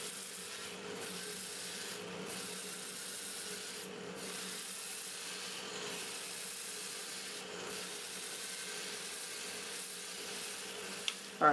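Sandpaper working over a spinning wood turning on a lathe, run through grits from 80 to 400, a faint steady rubbing hiss with brief pauses between passes and a couple of small clicks at the end.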